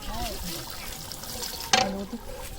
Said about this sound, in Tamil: தண்ணி அதிகம் ஊற்றாதியா